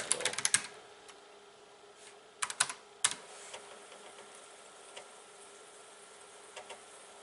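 Clicky typing on a flaky TRS-80 Model 4P keyboard in short bursts, a quick cluster at the start, another pair of bursts midway, then scattered single keystrokes in a quiet room.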